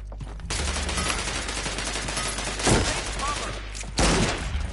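Rapid gunfire in the video game Realm Royale: a dense burst of shots runs nearly continuously, loud and close, with two heavier blasts near the end, over a low constant rumble.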